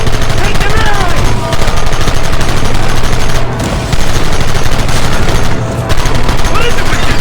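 Heavy, continuous gunfire from Red Dead Redemption, loud rapid shots merging into a dense fusillade that barely pauses, with brief dips before the shooting resumes.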